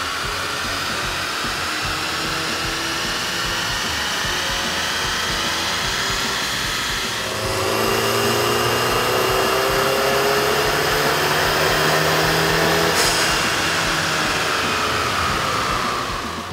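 A Volkswagen 2.0L turbo engine fitted with a cold air intake, running on a dyno: a steady, loud engine roar holds at a constant drone, then surges higher partway through and sustains at the raised pitch until the end, with no voices.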